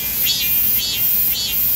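Cicadas chirp on a summer night in three evenly spaced, pulsing bursts over a steady, shrill high drone, continuous and fairly close.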